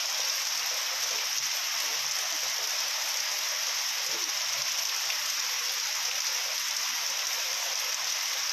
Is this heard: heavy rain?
yes